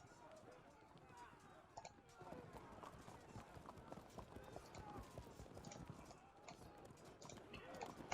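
Light javelin cavalry in the Field of Glory II strategy game makes a busy, continuous patter of hooves as the horsemen fall back, with a voice talking over it throughout.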